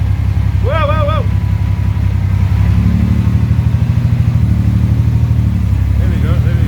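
A 1938 SS Jaguar 3½ Drophead under vintage restoration runs with a steady, close idle, its even low rumble pulsing throughout while people talk over it.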